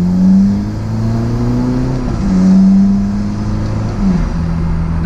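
Alfa Romeo 4C sports car accelerating hard toward 100 km/h, a close, steady engine drone rising in pitch through each gear, with brief dips at two quick shifts before pulling on again.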